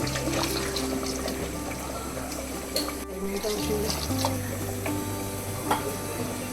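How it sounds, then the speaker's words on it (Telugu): Water poured into a pot of spiced mutton gravy makes a continuous splashing, running-liquid sound, close and fairly loud, over a steady background hum. "ఆల్రెడీ అందుట్లో గ్రేవీ ఉంది కాబట్టి కొంచెం వాటర్ వేసుకుందాం."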